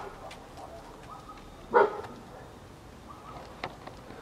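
A husky barking at hot-air balloons gives one sharp, harmonic bark close by, then a fainter yip, over a quiet outdoor background.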